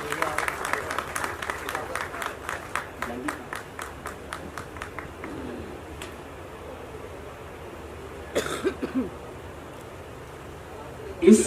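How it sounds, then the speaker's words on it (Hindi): Audience applause welcoming the guest Aslam Hasan Sahab at a music video event for a composer-director, a run of brisk claps that thins out and drops away, with a short burst of rustling and movement later. "पुरजोर तालियों से इस्तकबाल करें दोस्तों"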